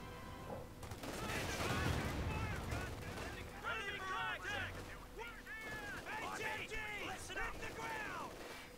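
Grenades and gunfire in the video game Company of Heroes 2: steady bursts of battle fire with explosions, with chirpy game effects layered throughout.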